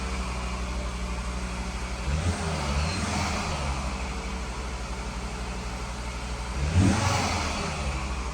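Interior sound of a Volvo S40 T5 on the road, with a steady engine drone and road noise that swells as the car accelerates, rising twice with brief revving surges.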